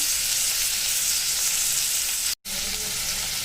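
Garlic, ginger and green chillies frying in hot oil in a pan, a loud, steady, close sizzle that continues throughout with one brief moment of silence partway through.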